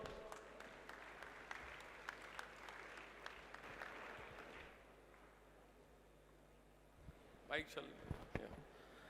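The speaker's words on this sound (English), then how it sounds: "A huge round of applause for this, sir." A crowd applauds with scattered clapping that fades out midway, followed by a brief burst of sound near the end.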